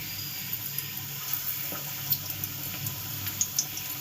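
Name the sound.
pakoras dropped into hot oil in an iron kadhai, frying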